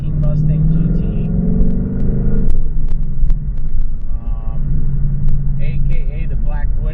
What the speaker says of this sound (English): We are here in my 2018 Mustang GT.